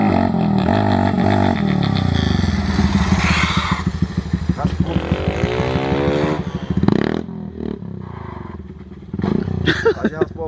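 A Honda Titan 160 motorcycle engine revs hard and roars as the bike pulls away for a wheelie, loud and close, with voices talking over it and clattering near the end.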